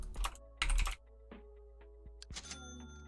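A few short clusters of clacking keystrokes on a computer keyboard while entering Roblox codes, separated by pauses, with faint background tones.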